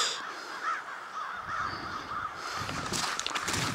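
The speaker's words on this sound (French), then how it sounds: "On dirait qu'ils chassent les corneilles, ces aigles-là." Crows caw outdoors while being chased by bald eagles, repeated harsh calls at moderate distance over wind and background noise.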